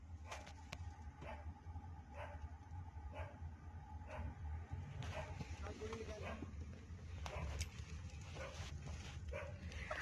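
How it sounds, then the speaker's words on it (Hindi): A black dog at a rural home gate barks repeatedly at a distance, sharp yaps recurring irregularly over steady background noise, with people talking faintly in the scene. "काली भौंक रही है जोर जोर से"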